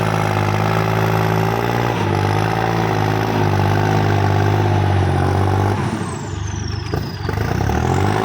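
A Kubota L4018 tractor diesel engine labouring under heavy load while pushing soil, a loud, steady, close droning growl with strong harmonics that dips briefly near the end before picking back up, with no talking over it.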